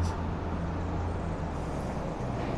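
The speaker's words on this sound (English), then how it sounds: "There goes a bus." A city bus passes along a street on a hot summer night in Toronto's Kingsway Village, a steady low engine rumble with road noise close by, heard alone without talk.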